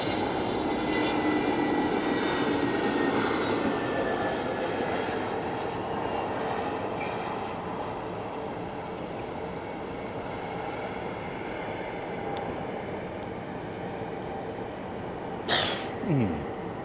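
Aircraft engine drone from a flight simulator game, a steady broad roar with faint whining tones that eases slightly, and a short louder swoosh near the end.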